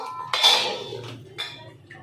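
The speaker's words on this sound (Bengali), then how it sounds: "আর আমি ঢাকা দিয়ে দেবো" A lid goes onto a pot of crab curry being slowly fried down, making a close metallic clank followed by a softer rattle and a light tap as it settles.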